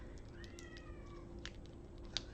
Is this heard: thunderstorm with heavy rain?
no